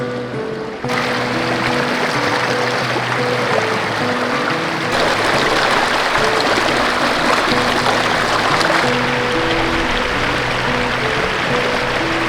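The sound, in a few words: babbling brook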